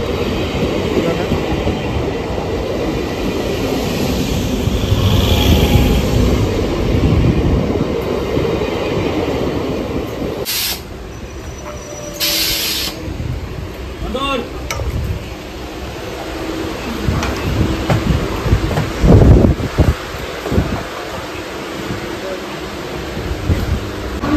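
Local train arriving and running toward Panvel, heard from inside as a loud continuous rumble with clattering and squeals, rising and falling over time, with brief bursts of noise.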